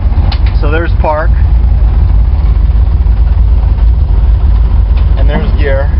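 A car engine idles in gear at roughly 700 rpm, with a vacuum leak affecting idle quality; a steady low rumble runs throughout while someone talks over it.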